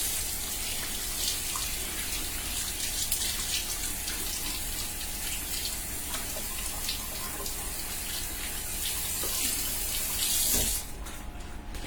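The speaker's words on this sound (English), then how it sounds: "I run them under the water and I get them clean" Kitchen tap water running steadily into a sink while split leeks are rinsed clean, a constant close hiss that shifts briefly near the end.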